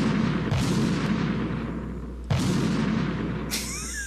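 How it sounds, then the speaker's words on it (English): Two heavy booming explosions from the video game Metal Gear Solid 2, each with a long rumbling decay, followed by a brief high electronic whine. "It's a lot of explosions."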